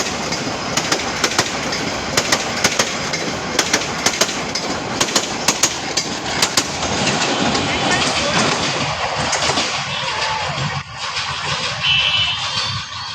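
A train passes close by with a loud rolling rumble and regular clickety-clack beats from the wheels over the rail joints, while voices talk over it.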